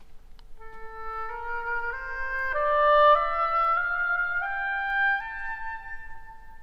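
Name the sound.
Phrygian mode scale in A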